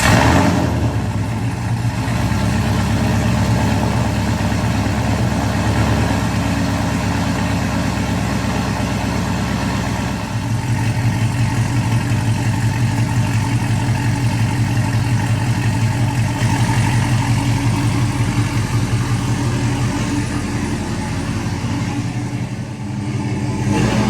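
Yamaha VMAX motorcycle engine cranking to life and settling into a steady, loud idle with a deep throbbing note that holds for the full stretch, no voices over it.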